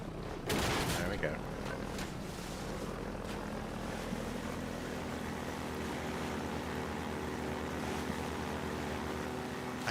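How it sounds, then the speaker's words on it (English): Steady vehicle engine drone from a buggy driven in Half-Life 2, a continuous low rumble with sustained hum after a brief burst at the start, running throughout. "I think the drone of the engine doesn't help"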